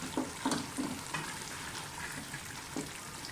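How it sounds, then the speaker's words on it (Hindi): Green chillies frying in a pan with pumpkin (chappan kaddu) sabzi, giving a steady close sizzle broken by a few brief stirring scrapes. "जो हरी मिर्ची हमने बचाई थी वो भी डाल दें और भुनाई कर लें अच्छी तरह से।"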